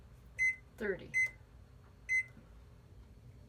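A kitchen timer beeps as it is set while a sweet yeasted bake waits. Three short, sharp, close beeps sound, with a brief spoken word between the first two.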